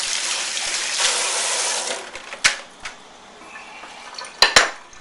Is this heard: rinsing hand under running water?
yes